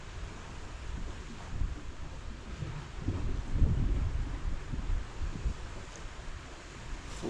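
Gusty wind buffets the microphone at a seaside rock fishing spot, a low continuous rumble that swells in stronger gusts midway, with no voices.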